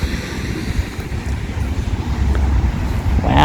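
Steady road traffic on North Rocks Road rumbles beside a Catholic cemetery in North Rocks, a continuous low roar with wind-like hiss that grows slightly louder toward the end.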